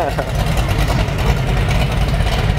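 A truck engine idles with a steady, low, continuous rumble that holds an even level throughout, while people talk over it.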